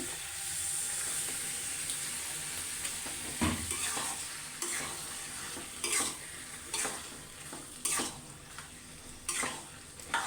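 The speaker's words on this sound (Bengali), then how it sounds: "এই তো আমি এখন কলিজাগুলোকে দিয়ে নিচ্ছি" Chicken liver drops into spice paste frying in oil, setting off a steady close sizzle with a burst near the start and repeated sharp scraping stirs of a utensil against the pan, no voices.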